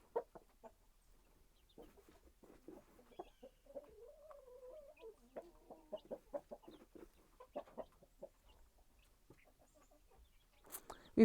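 A mother hen clucks softly with new chicks on a homestead, low murmuring clucks and faint peeps scattered through quiet surroundings, fairly close.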